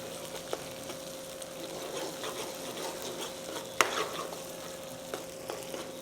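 Ginger garlic paste sautéing in a pan for Chettinad chicken drumstick masala makes a soft, continuous sizzle, with scattered stirring scrapes and one sharper metallic clink partway through.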